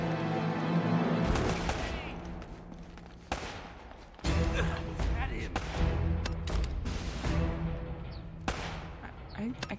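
Gunfire in Uncharted: Drake's Fortune, with bursts of loud, sharp shots arriving in irregular clusters, some rapid like an automatic weapon, and gaps between volleys.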